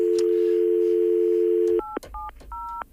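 Telephone being dialed on the air during a morning radio call-in show: a steady dial tone holds for nearly two seconds, then breaks into a quick run of distinct touch-tone beeps, close and clear, with no talking.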